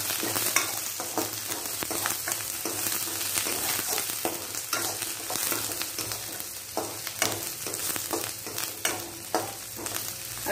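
Garlic, green chili and curry leaves sizzle and fry in a pan, a steady crackling hiss broken by frequent scraping stirs, close and continuous with no voices.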